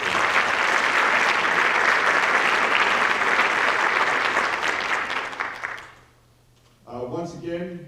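An audience at a high school awards evening applauds loudly and steadily for several seconds, then the clapping dies away before a voice begins speaking.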